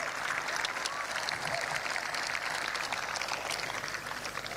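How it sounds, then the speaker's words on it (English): A crowd at a community breakfast gathering claps for educators, a brief, dense and even wash of applause heard across a room, with no speech over it. "So quick round of applause for our educators on both sides of us for all the great work you do for our students."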